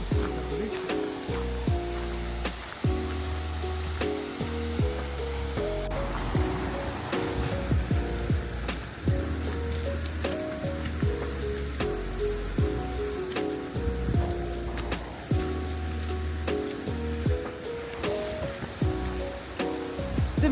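A river rushes steadily through the Carpathian mountains, a continuous hiss of flowing water at moderate level with faint tonal sounds and scattered clicks layered over it.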